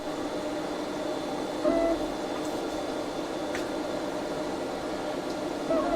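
A Geeetech A20 3D printer running a test print gives a steady mechanical hum and whir, with faint stepper-motor tones rising briefly now and then, constant and close.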